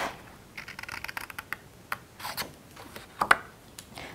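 Paper snipped with scissors while making a pirate cutout for a kids' craft, faint close crisp rasps and small scrapes scattered across the span, with a brighter double snip near the end.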